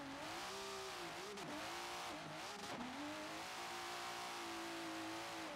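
Pro-am drift car revving hard on initiation at the start of a qualifying run, engine note rising and dipping with brief tyre squeal as the car enters the corner, loud and close, no talk.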